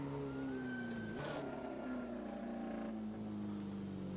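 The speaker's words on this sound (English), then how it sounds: "Ooh, the sound of the car," A classic car's engine in the racing simulator Assetto Corsa, a steady mid-pitched drone whose pitch falls slowly as it eases off, moderately loud with no talking.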